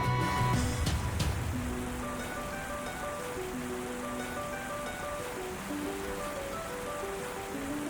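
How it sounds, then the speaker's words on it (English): Steady heavy rainfall in the video game Ys X: Proud Nordics hisses evenly throughout, with a soft musical tone playing underneath and a brief burst of splashing at the very start. "Rain."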